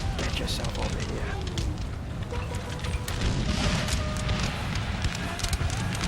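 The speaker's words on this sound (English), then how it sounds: "I think the gunfire from the cannon is just jaw-droppingly good." Cannon fire from a Napoleon: Total War battle booms in dense, rumbling thuds over a constant roar of musketry and combat noise, with occasional whistling sounds layered throughout.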